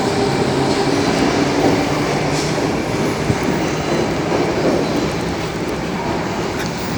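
A Sydney train runs through an underground tunnel, a loud, steady rumble of wheels and carriage noise that fills the whole stretch without letup.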